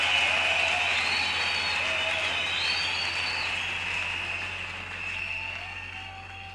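A church congregation applauds and cheers in praise of God, steady dense clapping that fades slightly toward the end, with faint shouts and whistles above it.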